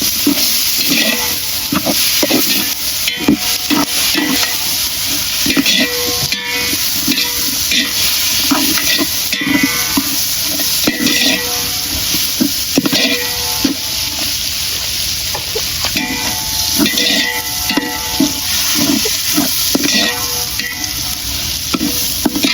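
Tomatoes sizzle loudly in oil in a frying pan for kadai biryani, a continuous dense hiss and crackle with repeated scraping stir strokes, close and steady throughout.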